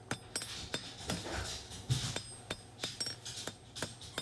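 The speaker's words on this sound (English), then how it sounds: "I'm using the edge of the anvil as a fuller to help me draw this out a little faster" A hammer strikes steel over the edge of an anvil, used as a fuller to draw out the tapered tang of a hand-forged flint striker. The blows are crisp, ringing and evenly spaced, about a dozen in quick succession, with no talk.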